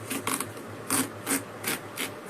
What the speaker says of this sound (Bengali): তাই এখন তরমুজটা কাটছি।